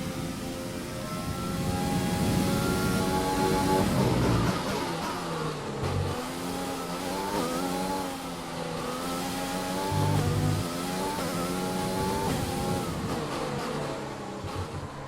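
A race car engine during a qualifying session on a racing circuit revs hard and rises through the gears, dropping with shifts and braking, then climbing again in repeated sweeps, loud and close throughout.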